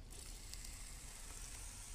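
Tomatoes sizzle in a hot frying pan, giving a soft, steady hiss and crackle that carries on evenly throughout.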